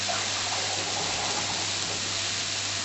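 A pint of boiling water pours steadily into a pot of turnips and carrots, a continuous close gushing splash with no talk.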